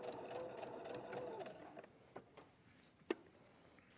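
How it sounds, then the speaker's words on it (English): A sewing machine stitches along a seam, a faint rapid mechanical whir for the first part, then quieter with a few isolated clicks and taps. "You just start stitching."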